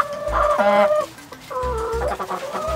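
Chickens cluck and squawk nearby in a series of short, throaty calls, several birds overlapping with no talking.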